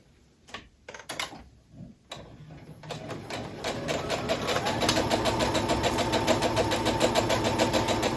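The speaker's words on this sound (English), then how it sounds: "we'll sew that at a 1/4 inch seam." A sewing machine stitches a quarter-inch seam on quilt fabric for a French braid table runner, starting with a few short bursts and then running in a steady, fast, loud rhythmic whir of needle strokes.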